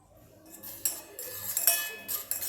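A cucumber pickle jar being closed: a few light glassy clinks and lid scrapes, close by and fairly quiet, building to sharper taps toward the end.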